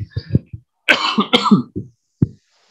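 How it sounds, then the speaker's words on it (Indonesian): Several close, throaty coughs in a short burst, mixed with soft throat-clearing grunts, fairly loud and alone. "Maaf saya agak batuk."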